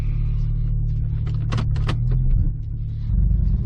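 A 2003 Porsche 911 Turbo idles with a steady low rumble while being shifted into reverse, a few brief mechanical clicks and clunks rising over the engine drone up close.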